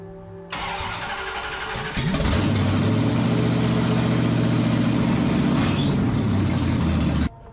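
A Ramcharger with a 383 engine and open headers cranks over, fires up and settles into a loud, steady, rumbling fast idle close to the microphone, then cuts off abruptly.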